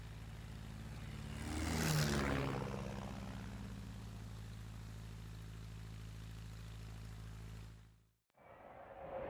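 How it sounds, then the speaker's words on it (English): Droning World War II attack aircraft over Pearl Harbor in the second wave, a steady low engine and propeller roar that swells as a plane passes overhead, then cuts off abruptly near the end. "At 8:54 a.m., the second wave of 170 aircraft began their attack."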